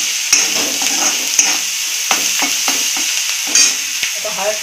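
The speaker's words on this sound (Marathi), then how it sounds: "चांगलं आपलं भाजून द्यायचं जरा। थोडं मीठ टाकायचं म्हणजे भाजून चांगला कांदा मिरची।" Onion and chili with a little salt fry loudly in a pan under a constant close sizzle, with a spoon scraping and tapping the pan in a quick, irregular stirring rhythm and no voices.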